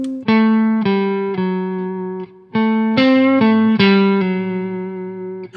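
An electric guitar plays a slow rock solo lick in A Dorian, with single notes picked one after another, each ringing out with a sustained, slightly distorted tone and no voice over it.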